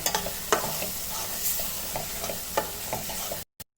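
Egg roast masala sizzles in oil in a pan while a spoon stirs it, giving close scraping strokes over a steady soft frying crackle.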